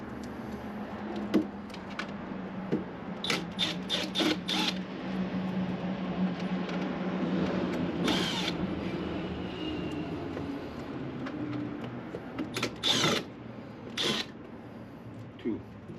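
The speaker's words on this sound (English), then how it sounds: "Just 4 screws." Screws being backed out of a generator battery charger with a tool, brief clicks and rattles scattered across the span, plus intermittent scraping and handling noise, near and moderately loud over a low background hum.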